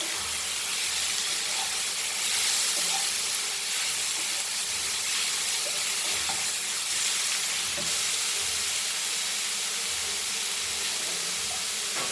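Garlic frying in a pan for Goan dry prawn and dry fish curry makes a loud, continuous broadband sizzle and hiss that holds steady throughout, with no speech.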